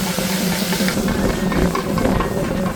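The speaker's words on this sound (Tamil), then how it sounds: "அந்த புளியை ஊற்றிடும் புளி சாறு" Tamarind juice poured into a hot pan of frying fish while cooking at sea: a loud, steady, broad sizzling hiss that fills the whole stretch, with no talking.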